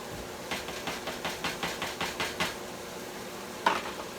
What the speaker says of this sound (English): I'm going to add the onions and peppers in here.